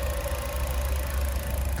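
A 1.6-liter four-cylinder engine in a 2024 Nissan Kicks SR idles in the engine bay with a steady low hum and an even, continuous drone.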